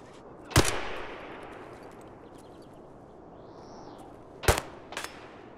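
SCAV gunfire in Escape from Tarkov: one sharp shot rings out, then after a few seconds of quiet two more cracks follow close together, moderately distant, with no talking.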